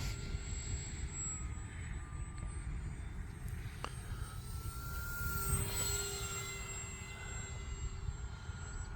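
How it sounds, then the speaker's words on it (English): A radio-controlled Arrows P-51 Mustang model warplane with a four-blade propeller flies overhead, its motor a steady, moderately distant drone with a faint whine that rises and falls as it passes. "it's been a while since I had a really good flying Mustang"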